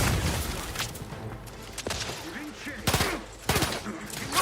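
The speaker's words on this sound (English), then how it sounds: "why are they such grenade spammers?" Gunfire and explosive blasts from The Outer Worlds 2 video game crack out in quick bursts, with a few heavier booms among the shots.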